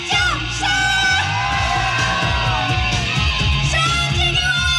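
A large outdoor concert crowd at a 2016 Taiwanese festival screams and whoops loudly and continuously over amplified music, a dense sustained roar of many voices.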